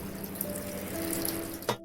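Water pours steadily for a weight-loss lentil soup, a close continuous splashing stream that ends with a short clunk near the finish.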